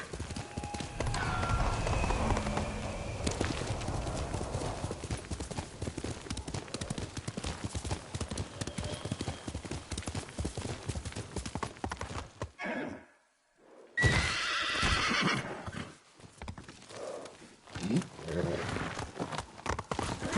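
Kage the horse galloping in the Ghost of Tsushima video game, rapid continuous hoofbeats up close with a whinny or snort, then a brief silence before the galloping picks up again, voices speaking faintly at times.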